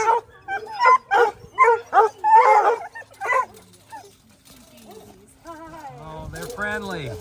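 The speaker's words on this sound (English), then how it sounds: "So this is all the fox hunting hounds." A pack of fox hunting hounds barks in a quick series of sharp yelps and bays, then shifts to softer whining and whimpering, moderately close outdoors.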